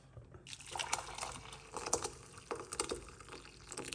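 Garlic and clove water pours off from a pot, splashing in irregular bursts for several seconds, with a trickling, dripping quality and no voices.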